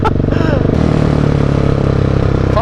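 A 2017/2018 Husqvarna 701 motorcycle with a Mivv exhaust revs hard as the throttle is snapped open, a loud close pulsing engine roar rising in pitch.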